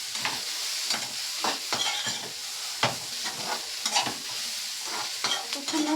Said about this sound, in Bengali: ততক্ষণ কিন্তু সয়াবিনটাকে নাড়াচাড়া করে ভেজে নিতে হবে